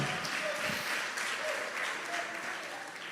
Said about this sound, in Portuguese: Se você aplaudir, pode aplaudir bem forte.